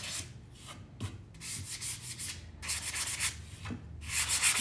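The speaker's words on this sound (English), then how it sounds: "you can come in with some sandpaper and just blend your edges a little bit" Sandpaper rubbed back and forth over the edges of a moulded decoration to age it, a series of close, rhythmic rasping strokes with brief pauses between them, with no talking.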